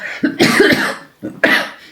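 Two loud, close coughs, the first a raspy drawn-out burst and the second shorter after a brief pause.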